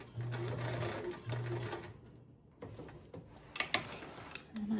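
Sewing machine running short bursts of tacking stitches to reinforce the bottom of a panel on a convertible duffle bag, several brief whirring runs separated by pauses and small clicks of handling, close and steady.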